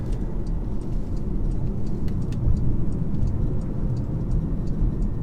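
A Porsche Macan S engine drones steadily from inside the cabin while driving, a dense low rumble with faint ticking above it and no talk.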